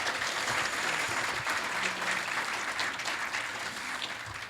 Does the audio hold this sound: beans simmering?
no